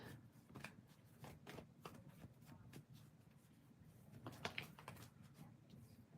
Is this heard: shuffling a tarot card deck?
yes